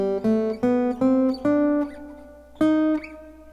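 A guitar plays a major scale one note at a time, each note plucked clearly and left ringing on its own in a steady ascending run, with a short pause before the last notes.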